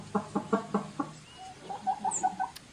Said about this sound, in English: if you hear those high pitched chirps in there, it's kind of a clue to it.